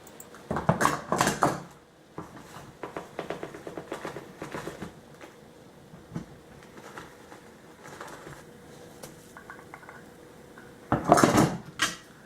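Coconut and brown sugar being stirred in a pan for Filipino biko, heard as irregular close scraping and clattering of a utensil against the pan in bursts, louder at the start and end, without talk.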